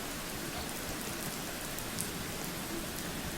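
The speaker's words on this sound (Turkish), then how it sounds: "Asit yağmuru yağıyor." Steady acid rain in a Roblox game patters on a surface, a dense continuous hiss at moderate level with scattered droplet ticks, no voices.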